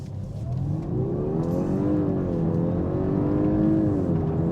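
A 2024 Audi A5 Sportback Premium Plus in dynamic mode accelerates on a country road, its engine note rising and falling in a steady, loud drone heard from inside the cabin, with no one talking.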